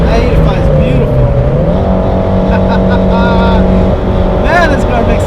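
A 2008 Mitsubishi Evo X running E85 pulls hard down a straightaway, its engine note climbing steadily through the revs, loud and close from inside the car, while an excited voice speaks over it.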